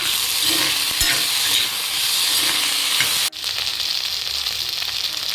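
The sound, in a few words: stirring masala Maggi with turmeric and salt in pan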